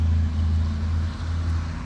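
Cars and motorcycles passing on a street early in a noisy morning, heard as a steady low engine and traffic hum with a droning motor tone, continuous and fairly loud, without talk.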